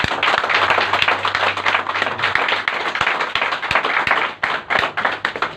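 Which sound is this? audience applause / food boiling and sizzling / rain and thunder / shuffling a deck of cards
audience applause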